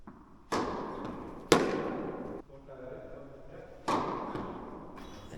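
Tennis ball struck hard during service games in a tournament match, three sharp impacts with decaying court reverberation.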